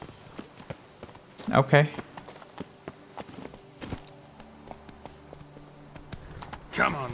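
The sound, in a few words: horse Roach hooves from video game The Witcher 3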